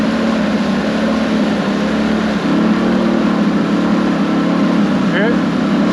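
A boat's engine on Lake O' The Pines runs wide open but fails to deliver speed, giving a steady, loud mid-pitched drone with no pauses throughout.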